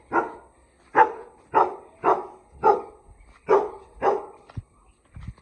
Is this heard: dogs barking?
yes